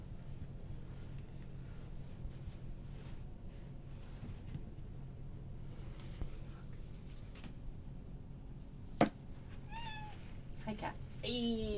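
A house cat meows several times, faint at first and then clearer near the end, rising and falling calls amid quiet room noise while someone works at sewing.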